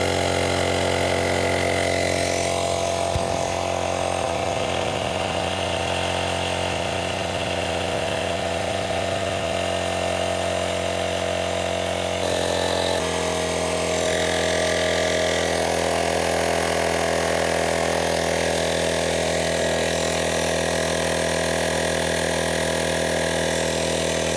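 A portable Amazon tire inflator pumps up a ball, running as a loud, continuous buzzing motor drone with a steady pitch that shifts slightly partway through, with no talking.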